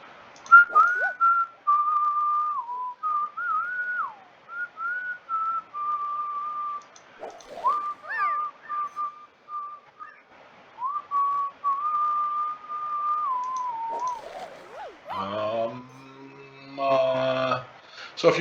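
A person whistles a melody, wavering and sliding between sustained notes in short phrases, fairly close and clear, then briefly breaks into a harsh buzzing, reedy sound near the end.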